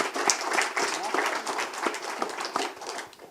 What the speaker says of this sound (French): je pense que ça mérite aussi quelques applaudissements